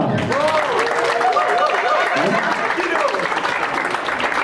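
An audience applauds at a graduation celebration, a dense patter of clapping running throughout beneath a woman's excited, high-pitched voice.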